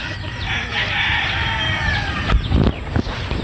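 A backyard rooster of a bloodline breed crows loudly and close in one long drawn-out call, then breaks into a few short clucks, with no voices over it.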